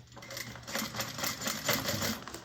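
A sewing machine runs in quick rhythmic bursts while back stitching a handbag, whirring and clattering nearby with slight pauses between runs.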